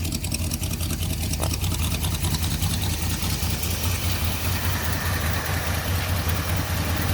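A 1978 Ford F150 engine idling through a welded-on exhaust, a steady, loud, rumbling drone that holds evenly throughout with no speech.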